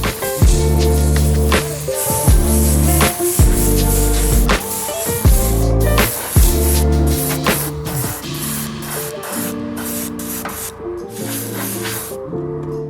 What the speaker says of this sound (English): To spray the black trim, I just decided to use some Vallejo black.